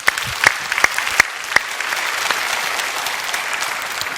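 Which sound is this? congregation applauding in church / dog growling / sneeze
congregation applauding in church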